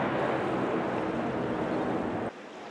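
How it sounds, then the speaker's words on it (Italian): A ferry passes on the water, giving a close, loud, broad wash of engine and water noise with some wind, holding steady and then dropping off sharply near the end. "Tanto sto anche passando un traghetto."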